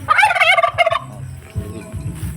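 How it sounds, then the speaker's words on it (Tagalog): A turkey gobbles loudly up close in a rapid warbling burst, followed by softer low clucking and rustling. "yung pabo"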